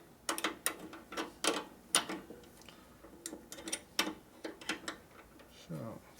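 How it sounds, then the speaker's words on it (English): Double jam nuts tightened together with wrenches on a 1957 Harley Panhead motorcycle, a series of sharp metallic clicks and ratcheting ticks in an uneven rhythm, fairly quiet and close. "It's a double jam nut, so you just jam them together and that locks it."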